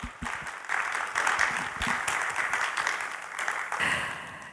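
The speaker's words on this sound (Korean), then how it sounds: "오늘 멋진 강연 선보여주신 감독님께 다시 한번 큰 박수 부탁드리겠습니다" A conference show audience in a hall claps for a speaker, with moderate applause that swells and dips and has a few distinct claps and thumps mixed in.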